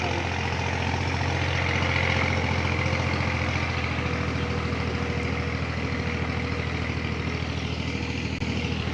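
An MS 240 tractor engine runs at a steady idle, with a deep, continuous low throb and rumble that stays close and loud throughout, and no one talking over it.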